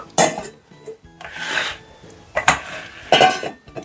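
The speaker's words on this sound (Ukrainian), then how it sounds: "Ну, я оцей огірок отак от розрізала" A knife cuts a cucumber into pieces on a board, giving four crisp, close chops separated by short pauses, with faint scraping in between.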